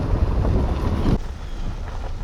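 Small boat gliding under a quiet electric motor on open water, a steady low rumble of water and wind buffeting the microphone, louder for the first second then easing, no voices.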